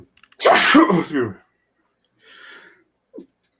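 A single loud, close sneeze with a sharp burst, followed by a quieter breathy sound and a brief short voice afterward during a live sports chat stream.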